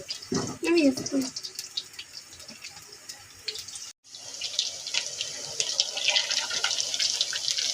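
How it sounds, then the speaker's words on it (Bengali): Pakoras fry slowly in hot oil. A brief clatter comes first, then a steady, bright hiss of bubbling oil rises and carries on to the end. "এখন আস্তে আস্তে করে ভেজে নিই পাকোড়াগুলো"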